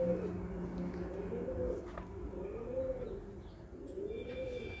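Brown high flyer pigeons cooing close by, soft repeated low rolling coos, with faint chirps in the background and a quiet ambient hum.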